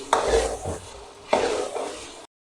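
Chicken masala being fried and stirred in a pan, with two scraping stirs against the metal over a steady low sizzle, close and alone.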